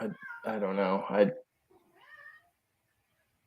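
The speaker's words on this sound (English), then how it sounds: "Is that a cat I hear?" A pet cat named Renly meows loudly and close by in a drawn-out, wavering cry, followed by a fainter second meow; a voice speaks briefly.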